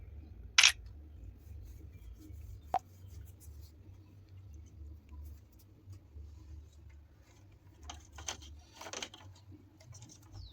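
A camera shutter clicks sharply once while a photo is taken during a TATA solar installation quality inspection outdoors. A second faint click follows, over a low, steady background hum and scattered small handling noises.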